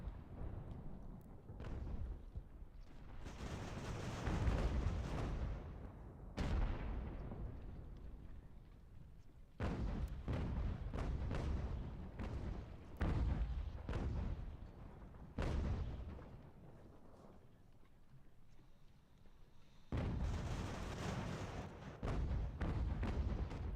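Artillery canister fire rolls across a battlefield in Ultimate General: American Revolution, with repeated deep booms and crackling volleys in irregular bursts separated by short, quieter gaps.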